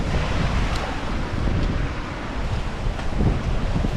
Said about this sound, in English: it is so damn windy out there